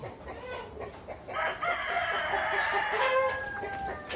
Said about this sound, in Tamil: இதோ ஆந்திர பிரதேஷ் கோழி.